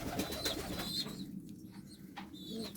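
Pigeons in a backyard coop being readied for winter, soft repeated cooing close by with faint rustling, no talking.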